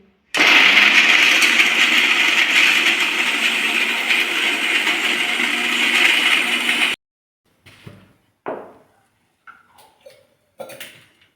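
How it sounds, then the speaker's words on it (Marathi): A kitchen mixer grinder blends a spice mixture of salt and red chilli powder, a loud whirring motor run of about seven seconds that cuts off abruptly, followed by several short clunks and knocks of the jar. "आता आपण हे मिक्सरमधून काढून घेऊ"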